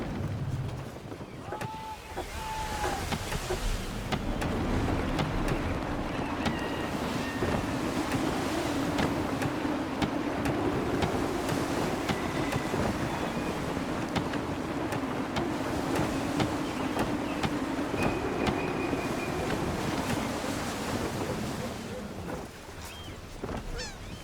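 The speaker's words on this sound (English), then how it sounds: "Gusty winds can be difficult to manage." Strong, gusty wind roars steadily around a sailing ship at sea in Assassin's Creed 3, with creaking and water wash beneath it. Brief voices are heard near the start.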